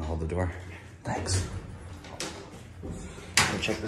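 The gated door of an old Reliance service elevator in a Chicago building slides and clatters, ending in a sharp bang near the end, while people talk close by.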